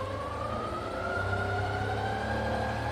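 A rebuilt Bridgeport milling machine spindle spins up in speed, its whine rising steadily in pitch over a low mechanical hum, close and continuous.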